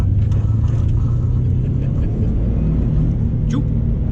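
A 1994 JDM Subaru WRX wagon engine held in hard second gear through a hairpin, a loud, steady, close, low-pitched engine drone with the speaker talking over it.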